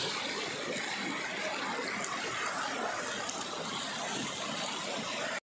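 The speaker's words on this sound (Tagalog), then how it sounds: "Medyo malakas ang agos ng tubig" A strong current rushes along a river by a hot spring, a steady, dense, unbroken roar that stays at the same level until it cuts off at the end.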